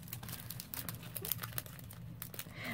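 Crinkling and tearing of a taped package being opened by hand, a steady close rustle of tape and wrapping lasting a few seconds with no talking.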